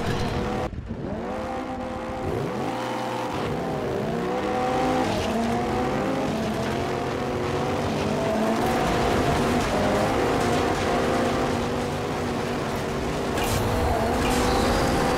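A motorbike in the MotorStorm racing game roars around the muddy Sidewinder Gulch dirt circuit, its engine droning steadily and loudly with rising and falling revs and no break.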